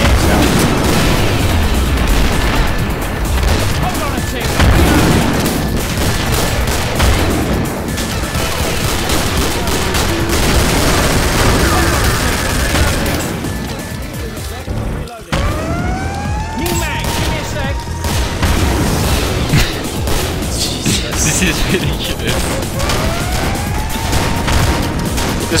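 Repeated flame grenade blasts from a grenade bug in the Killing Floor shooter game, with dense rolling booms, crackling fire and gunfire, rising whistling tones in the later half, and a loud, chaotic mix throughout.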